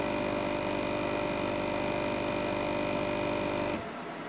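Vacuum pump on a malfunctioning machine running with a steady loud hum and whine, then cutting out abruptly near the end, leaving faint background noise.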